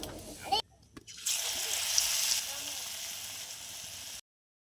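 Cauliflower chops drop into hot oil and fry with a loud, steady hiss that starts after a brief clatter, then cuts off abruptly.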